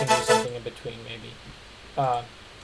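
A square-wave synth tone with low detune, played as sustained buzzy notes with strong harmonics, a short phrase followed by one more brief note, close and clear with no talking.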